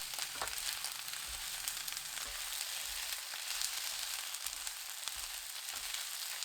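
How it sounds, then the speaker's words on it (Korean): Cabbage stir-fried over high heat in a pan with minced garlic and green onion, giving a steady, close, dense sizzle with faint scraping stirs throughout and no voices. "배추 넣고 센 불로 1분 30초 볶습니다."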